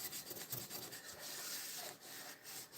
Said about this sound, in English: Now technically you'd want to soak this, but I'm going to use the scrubby side.